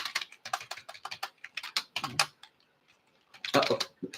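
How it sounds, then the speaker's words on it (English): Rapid clattering keystrokes on a computer keyboard, typed in bursts with a brief pause, close and fairly loud, while people talk over the typing in a live comedy podcast studio in New York City. "I'm typing something in for you."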